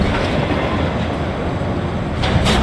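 A monorail train in DOOM 3 runs along, a steady loud rolling rumble with a faint rhythmic rattle of the rails, swelling slightly near the end with no voices.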